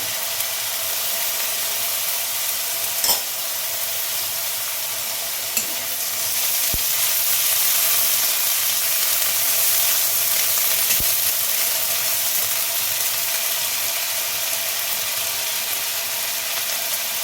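Garlic and ginger paste frying in hot oil for a Bengali arbi (taro) curry: a loud, continuous hiss and sizzle with occasional scraping taps of a spoon, close-up, steady throughout, with no voices.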